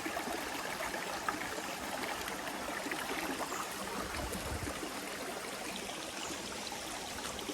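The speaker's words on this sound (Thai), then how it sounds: "เสียงน้ำไหลแล้วไม่มีเสียงอื่นรบกวน" A steady, continuous rush of flowing stream water at a campsite fills the scene, even and unbroken, with no voices or other sounds.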